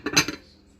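A lid clatters onto a plate in a kitchen, a short burst of ceramic clinks and knocks lasting well under a second, close and moderately loud, then fading into quiet room noise.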